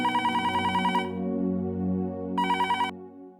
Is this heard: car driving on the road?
no